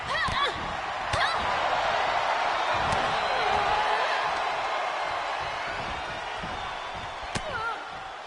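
An arena crowd roars steadily during a women's match in the WWE 2K22 wrestling video game, a dense continuous cheer with occasional sharp slams and thuds, while a commentator talks over it.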